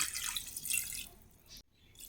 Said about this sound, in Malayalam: ഇതിലേക്ക് ഒരു ഒന്നര ഗ്ലാസ് വെള്ളം കൂടെ ഒഴിച്ചു കൊടുത്തിട്ട്